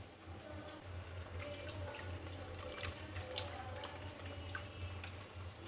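Strained broccoli cooking water poured through a kitchen strainer, a steady, soft trickling and splashing stream with a few brighter drips, close and continuous throughout.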